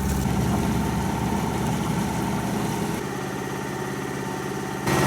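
A sailboat's engine chugs steadily at idle-like speed while motoring along the Croatian coast, a low continuous drone with faint vibration throughout.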